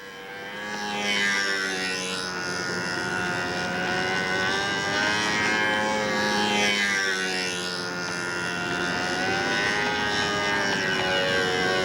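A model B-25 aircraft engine running low on fuel drones continuously at a distance, its buzzing note swelling and fading in slow waves as the plane circles.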